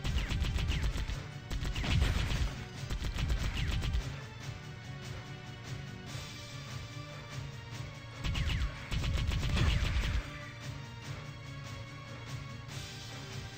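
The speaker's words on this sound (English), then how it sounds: "I didn't realize the gunshots were that loud." Loud bursts of gunfire in the FMV video game Hardline, rapid volleys and crashing impacts in two main clusters separated by quieter stretches, harsh and close with no talk.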